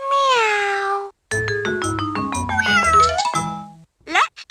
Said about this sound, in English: I'm an orange cat. Meow.